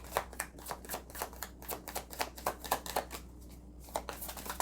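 Rapid, crisp riffling of tarot cards being shuffled, a fast rhythmic burst of flutters repeating steadily, close and fairly quiet.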